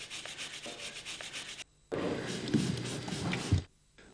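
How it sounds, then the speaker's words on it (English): Wire brush scrubbing a horse hoof during hoof reconstruction, repeated bursts of close, dry rubbing strokes with a brief pause partway through, no voices. "Acetone and a wire brush are always used to clean the hoof."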